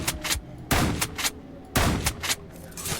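Gunfire in the video game Shift at Midnight: several loud, close bursts of rapid shots, each a sharp volley separated by short pauses.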